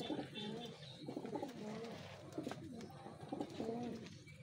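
Racing homer stock pigeons cooing in a loft, soft repeated throaty coos close by over a low background hum.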